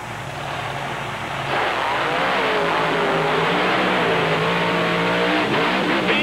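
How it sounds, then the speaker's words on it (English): The Bigfoot monster truck's engine roars and revs hard during a race, loud and sustained with the pitch climbing as it accelerates, amid general motorsport noise. "driving the awesome Bigfoot truck"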